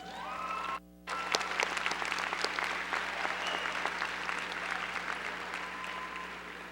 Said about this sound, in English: May we please have a round of applause to recognize these Honor Society graduates